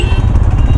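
Royal Enfield Himalayan motorcycle engine on the road, a steady close, loud low rumble with a continuous throbbing pulse throughout, no voices.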